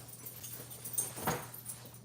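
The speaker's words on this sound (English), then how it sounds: "the dogs are trying to get to the spoon" Several dogs whimper and whine close by in a kitchen, crowding around a spoon, with soft overlapping cries and one louder yelp near the middle.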